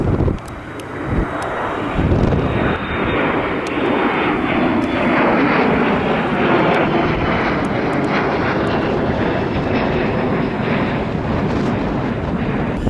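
An Alaska Airlines plane takes off from Adak in the Aleutian Islands, Alaska, on a windy day. Its loud, close engine roar swells and is sustained for several seconds, with no talk.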